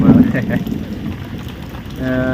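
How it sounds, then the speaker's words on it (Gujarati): Steady rain pours down in a village during a thunderstorm, with a dense hiss and a low rumble of thunder. A brief voice-like tone rises near the end. "વરસાદ વરસાદ હમણાં વાદળ તમને દેખાયું એ જ વાદળનો વરસાદ કડાકા ભડાકા થાય છે"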